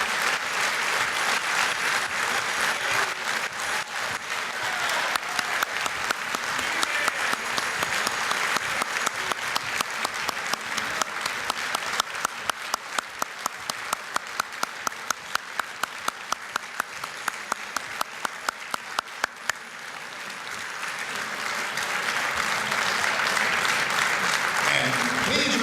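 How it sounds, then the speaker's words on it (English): An audience at an awards dinner applauds the head table guests on the dais, producing steady, full clapping that runs the whole time, with individual sharp claps standing out near the middle and a voice speaking faintly beneath. "How about a little applause for this beautiful group?"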